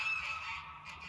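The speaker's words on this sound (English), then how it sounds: "geese are having fun. Geese are mad." Geese honk on an Alaskan homestead, a brief burst of nasal calls blending together, moderately close, with no voices.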